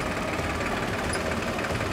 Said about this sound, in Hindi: अब मशीन को स्टार्ट करवा के देखते हैं ये कैसे काम कर रहा है।